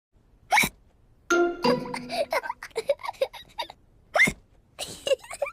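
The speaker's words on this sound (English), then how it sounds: "George drank his juice too quickly and now he has hiccups." A child has hiccups after gulping juice too fast, with several abrupt, loud hiccup bursts at irregular intervals and some voiced vocal sounds in between.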